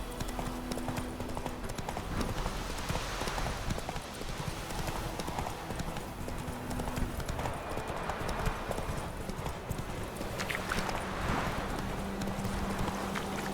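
Horse galloping in the video game The Witcher 3: Wild Hunt, a steady rapid clip-clop of hooves that runs throughout at a close, even level.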